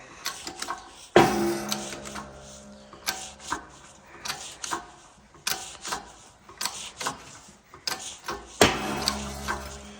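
A press forces the wheel bearing spindle out of a 2007–2014 Ford Edge front hub, giving a sudden loud crack as it pops free, then a sequence of clicks, clunks and mechanical knocks, close, with another sharp bang near the end.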